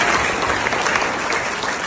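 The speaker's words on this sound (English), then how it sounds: "You could clap for that one." A crowd applauds at a city ceremony honoring a 2009 sports team, a thick, continuous wash of clapping that stays loud and even for a couple of seconds with no pauses.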